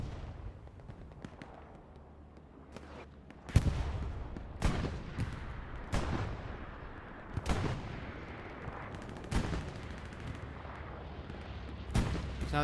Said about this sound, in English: So now they have a bombing run of their own.